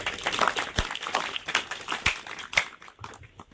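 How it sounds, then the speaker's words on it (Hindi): Guests clapping to congratulate a couple at a first wedding anniversary church blessing, a scattered burst of individual hand claps, some sharp and near, others softer, fading toward the end. "खुशी के रूप में और बधाई के रूप में ताली बजाते हैं"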